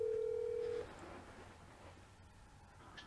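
A telephone line gives a steady electronic tone for just under a second during a recorded call, then drops to a quiet, hissy line.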